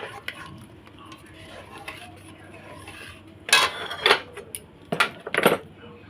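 A spoon stirs caramel into milk for homemade mishti doi, scraping and clinking against the pot in a few quick, close bursts after a quieter stretch.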